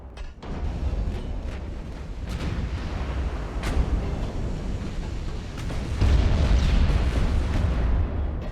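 Naval battle in the game Ultimate Admiral: Dreadnoughts, with heavy ship guns booming and shells striking, a continuous rumbling barrage of overlapping blasts and sharp cracks that swells louder near the end.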